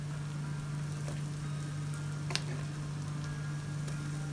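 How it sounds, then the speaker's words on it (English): Onions, garlic and finely chopped ginger fry in a pan for sweet and sour duck, giving a soft, steady sizzle throughout with a few faint clicks and a low background hum, and no voices. "So I start by throwing the onions into the pan, tossing that around, a bit more garlic, a bit of finely chopped ginger as well."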